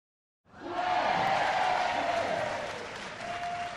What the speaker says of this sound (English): Please, hold your applause and let me tell my story.